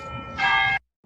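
Church bells ring outside, a bright sustained peal that swells in loudly over a low murmur, then cuts off abruptly to silence before faint sound returns.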